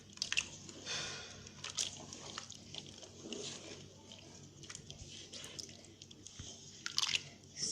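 Okpa batter being stirred with water in a pot, wet squishing and soft slaps in irregular bursts at close range, with faint drips between strokes.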